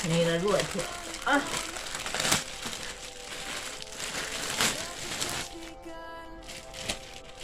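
Sealed plastic packaging of a delivered wig crinkled and pulled open up close, repeated crackling rustles alongside someone speaking.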